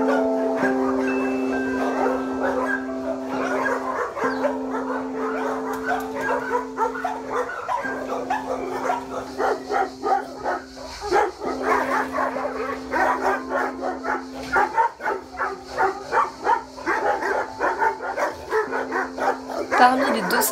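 Dogs in shelter cages at the SPA in Marseille bark and yip repeatedly in an irregular, busy chorus, with occasional whimpers. Speech-like voices and a steady tonal hum run underneath throughout.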